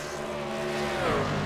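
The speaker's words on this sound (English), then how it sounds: "as we can see by the burnouts." Race truck doing a burnout at the start-finish line in iRacing at Texas, a brief rising tire squeal over a droning engine, faint and distant.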